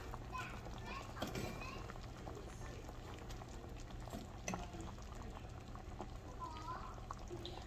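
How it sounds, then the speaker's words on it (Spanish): Pig trotters boiling in a pot for about an hour and a half, giving a steady bubbling simmer throughout, with light kitchen clatter and faint voices in the background. "Aquí las patitas ya tienen 1 hora y media que están hirviendo."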